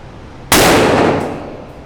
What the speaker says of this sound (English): I'm gonna fire a bird load from the full choke barrel of my Stevens 311